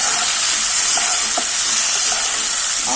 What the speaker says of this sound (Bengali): কেটে রাখা টমেটোগুলো দিয়ে দিব। হালকা একটু নাড়িয়ে নেবো, ভেজে নেবো ভালো করে।